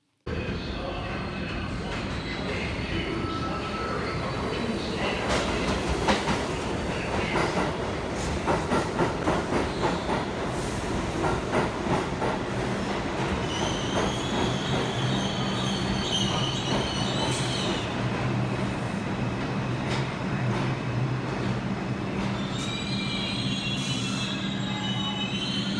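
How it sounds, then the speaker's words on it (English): A New York City subway train runs slowly on the IRT Lenox Avenue line, a steady loud rumble of wheels and car noise with screeching wheel squeals and rattles throughout, heard from inside the train. "our train is very slow and we have to retrace along it back to 96th Street"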